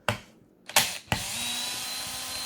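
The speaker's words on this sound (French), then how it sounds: "moi j'ai pris une perceuse avec un réglage du couple" A torque-setting drill spins three short bursts, then runs steadily while backing out a threadlocker-coated screw on an RC car, a Hobbytech NXT Evo 4s. Each burst is sharp and close, and the final whir holds even and alone.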